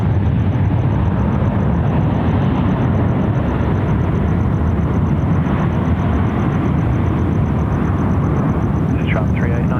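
An Airbus A350-900 jet roars loudly and steadily at Sydney Airport in the evening, a broad continuous engine rush that holds for the whole stretch while voices talk under it.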